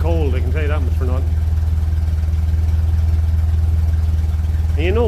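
A cold 1957 Ferguson 35 tractor running on TVO idles at a steady low tick-over near 600 rpm, its exhaust loud and continuous throughout, with someone talking over it at the start and again at the end.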